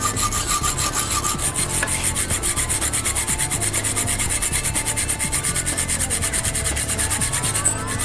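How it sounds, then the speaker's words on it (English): An 8mm diameter aluminium round bar is cut to a 200mm length, giving a steady rasping, rhythmic sawing that runs continuously and fairly loud for the whole stretch, with no talk. "Now, again with 8mm diameter aluminium round bar, cut off a length"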